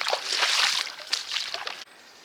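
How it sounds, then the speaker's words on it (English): Wellington boots swished and sloshed through water on a country lane in Hampshire, a few close splashing strokes in quick succession before a brief quieter tail. "Good chance to wash the wellies here, look."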